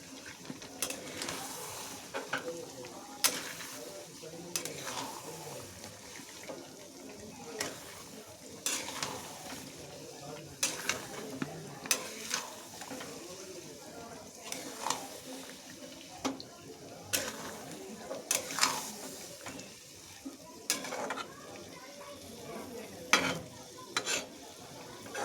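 Chicken stirred and frying in a pan, with repeated scraping and clattering stir strokes over a steady sizzle, close and moderately loud throughout.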